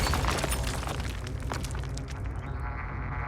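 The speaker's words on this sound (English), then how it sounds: "The boom of the explosion felt even louder this time around." A loud, dense explosion sound effect fills everything, a thick rumbling boom with crackling debris that slowly thins toward the end, with no speech over it.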